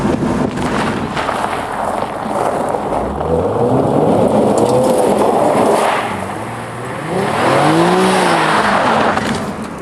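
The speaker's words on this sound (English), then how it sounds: "Great engine tone too." Infiniti G Sport Convertible engine pulling strongly while driving, with loud rising and falling engine notes and a tire squeal or skid mixed in, steady throughout with no talk.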